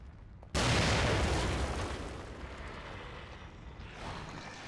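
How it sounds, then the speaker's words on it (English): Grenade explosions in the horror video game The Evil Within burst with a sudden loud boom, followed by a long rumbling decay that fades over several seconds. "Wow, he actually survived those explosions."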